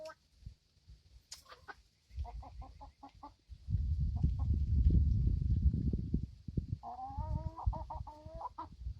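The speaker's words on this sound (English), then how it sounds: "Whoa, crazy chicken." A chicken missing many feathers clucks and squawks in a farmyard, giving short separated clucks, a stretch of low rumbling handling noise, then rapid agitated harmonic clucking near the end, with a person speaking briefly.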